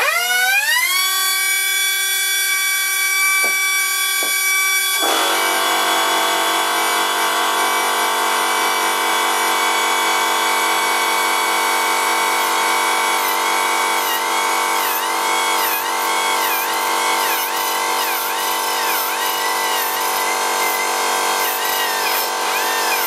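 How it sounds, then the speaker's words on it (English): A metal lathe spins up and then runs at slow speed, giving a steady, loud mechanical whine with layered tones that hold constant throughout, with no voices. "I'll do this while the lathe is running at a slow speed"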